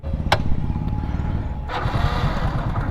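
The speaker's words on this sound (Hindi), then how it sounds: "ऐसे देख लो एक सेल्फ में स्टार्ट हो गई" A Hero motorcycle engine starts on the self-starter: a short electric cranking burst, then the engine catches and settles into a steady, close putter.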